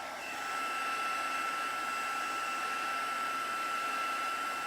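A heat tool blows a steady, loud whir while drying cardstock at a craft table, a continuous even drone with a high whine that holds unchanged throughout, with no talking.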